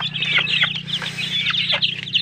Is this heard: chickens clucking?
yes